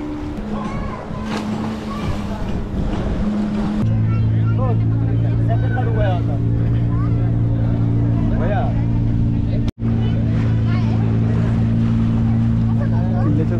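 Ferry boat engine droning steadily at sea near Malvan fort on the Konkan coast, a loud continuous low hum with wind and water noise, people talking throughout over the engine.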